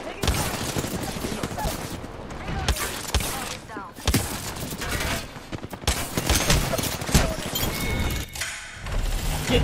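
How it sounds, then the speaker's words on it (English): Enemy gunfire in the Apex Legends video game, dense continuous bursts of shots and impacts filling the whole stretch, loud and close, with occasional speech underneath. "The enemies are shooting at me."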